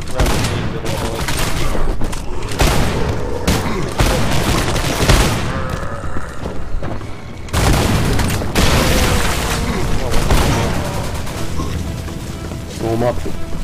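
Gunfire in Night Frontier, the haunted Hell's Reach level, as sustained loud bursts and booming shots run almost continuously, with a few brief lulls, while players talk over the shooting.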